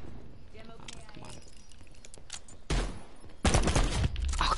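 Shotgun blasts from a Call of Duty Black Ops 4 gun game match, two heavy broadband bursts late in the clip, loud and close over in-game noise and a player's voice.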